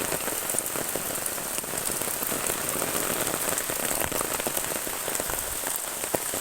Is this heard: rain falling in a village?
yes